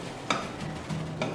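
A spoon stirs ube-powder bread dough in a bowl, giving two or three quick, soft scrapes over a faint background, close and quiet.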